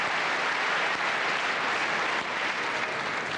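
Steady applause from a large audience for an orchestra at a concert, dense and sustained throughout without any pause.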